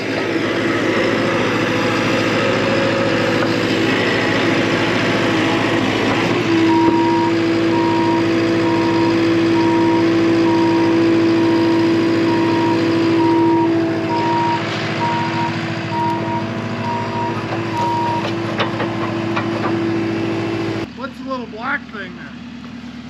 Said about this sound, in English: First hole going in the ground. Looks like about a 16 maybe inch auger.